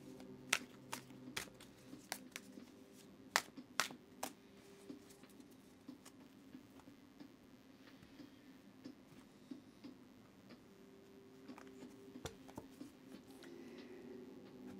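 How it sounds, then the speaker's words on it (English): A deck of tarot cards being shuffled, soft irregular riffles and sharp little slaps and taps, quiet and close against a faint steady hum, with no talking. "I'm going to go ahead and give the deck a really good shuffle for you"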